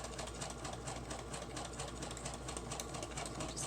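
A sewing machine runs steadily, stitching down the edges of pieced paper for a junk journal, giving a continuous close, fairly soft mechanical whir.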